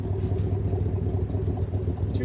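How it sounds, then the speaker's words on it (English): Side pipe exhaust of a 1967 Chevrolet Corvette with a 427 big block, tri-power and 4-speed manual, idling with a steady deep low rumble, close and loud throughout. "Listen to that exhaust."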